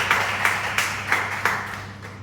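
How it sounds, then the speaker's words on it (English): A small audience at a talk on traditional Indian healthcare systems claps for the speaker, about half a dozen sparse, evenly spaced claps over a faint steady hum, thinning out toward the end. "Can I have a huge round of applause for Prashant?"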